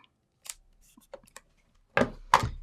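Scissors snip through a card panel twice, two sharp close cuts near the end after a few faint paper rustles and handling clicks.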